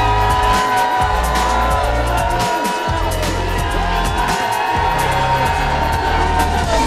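Crowd cheering at a highlining and tricklining contest in San Francisco, whoops and shouts rising over loud thumping music, with voices throughout.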